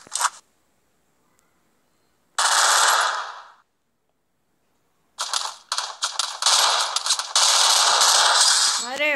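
Gunfire in a video game shooter lands a headshot: a brief shot, then a sustained burst about a second long, and after a pause, rapid repeated shots fired loud and close.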